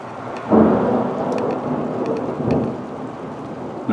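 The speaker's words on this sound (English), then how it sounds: "Nothing like a good thunderstorm in Tornado Alley." Thunderstorm in Tornado Alley, a deep rolling thunder rumble over steady rain, close and loud, swelling twice before fading back into the downpour.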